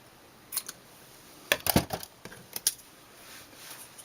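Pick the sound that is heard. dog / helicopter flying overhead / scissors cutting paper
scissors cutting paper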